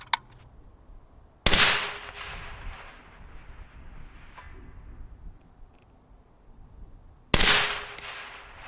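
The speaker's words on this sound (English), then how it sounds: "All right, 9 shots in this mag." Two sharp, loud rifle shots from an Mk12 Mod 0 SPR, spaced about six seconds apart, each with a ringing echo that decays outdoors, with quiet background in between.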